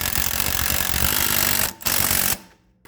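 Impact wrench driving a rear shock bolt on a 2011–2019 Ford Fiesta: a loud rapid hammering burst, a brief gap, then a second short burst that cuts off sharply.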